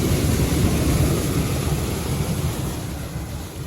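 Water pours out of a village watermill channel into a drain, a loud, steady rushing roar heavy in low rumble that continues without a break.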